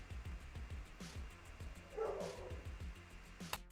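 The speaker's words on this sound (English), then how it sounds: "It's the dog. I just don't know whose dog it is." A dog barks somewhere in the distance, quiet repeated yaps behind a steady rhythmic thumping and background hum, with one sharper sound near the end.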